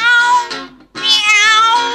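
A cat meows in two long, loud, tonal cries, the first trailing off before a short gap and the second rising again, close and clear with no talk.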